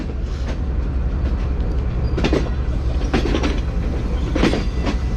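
The Green Line Express train pulls away from the main Rawalpindi platform with a loud, continuous rolling rumble, broken by a few sharp clacks of wheels on the rails, and no voices.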